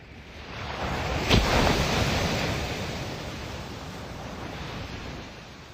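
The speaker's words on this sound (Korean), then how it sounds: "두꺼운 철판으로 만든 커다란 드럼통을 울리는 것처럼 억센 파도 소리가 들리는 바닷가에서" Strong ocean waves crash on a shore at night, a loud continuous roaring surge that swells and slowly recedes, with wind buffeting the microphone.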